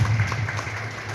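Audience at a party meeting breaks into a short, fairly loud burst of dense clapping that carries on without a break.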